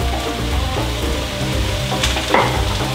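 Chopped onion and ginger frying in a pan for an Ethiopian ful breakfast, giving a loud, steady, close sizzle with small crackles and a brief stir, with no talk.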